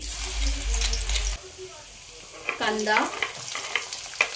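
Chopped garlic hits hot oil in a kadhai with a loud sizzle for over a second; the frying then quiets, followed by stirring and scraping sounds and a softer ongoing crackle.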